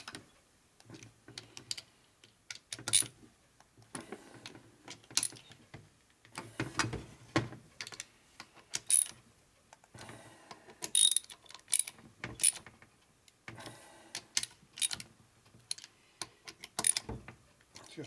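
A torque wrench clicks and ratchets repeatedly while bolts are tightened on a 1978 Harley shovelhead engine, with sharp metallic snaps and tool clatter in irregular bursts separated by quiet pauses.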